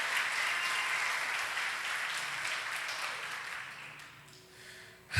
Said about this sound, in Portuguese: Se é para Jesus, você pode aplaudir, aplauda o nome dele.